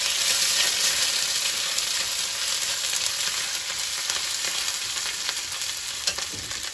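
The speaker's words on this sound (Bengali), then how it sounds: "তেলের মধ্যে দুটো শুকনো লঙ্কা দিয়ে দেব, দুটো তেজপাতা, 5 ফোড়ন," Dried red chillies, bay leaves, five-spice seeds and crushed ginger frying in hot oil, a loud, dense, continuous hiss close up that eases slightly as it goes on.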